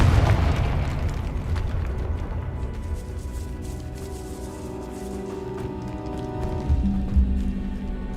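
A Confringo fire spell explodes in Hogwarts Legacy, a loud low boom with rumbling debris that decays into sustained crackling and tonal game effects over several seconds, with no voices.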